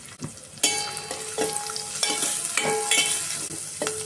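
Turmeric, cumin and mustard seeds with onions sizzle loudly in hot oil in a pan, a steady crackling fry broken by a few sharp stirring clanks, close and without talk.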